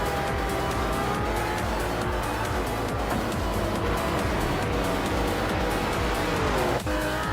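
A 1963 Ferrari 250 LM race car in a racing video game, engine droning loud and steady throughout with a brief tire squeal near the end.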